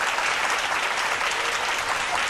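A studio audience on a Pakistani morning talk show applauds steadily, a dense even wash of clapping with no break.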